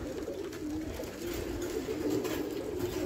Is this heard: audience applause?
no